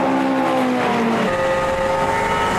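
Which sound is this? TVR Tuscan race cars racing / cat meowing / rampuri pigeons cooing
TVR Tuscan race cars racing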